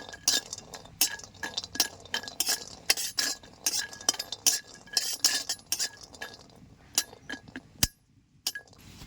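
Cashew nuts fry in a pan while a metal spoon stirs them, giving a string of sharp clinks and scrapes against the pan in an irregular rhythm, close and alone, with a faint sizzle beneath.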